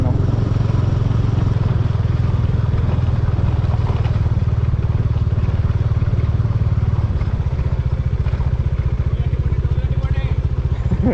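A Bajaj Dominar motorcycle engine runs with a low, rumbling, pulsing drone and a steady throbbing beat, close and fairly loud, its pitch shifting partway through as it rides on.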